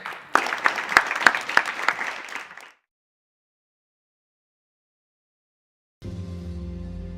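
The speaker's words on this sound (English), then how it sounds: "Give yourselves a round of applause." A crowd claps enthusiastically for a couple of seconds with sharp, dense hand claps, then silence, then a steady tonal sound starts.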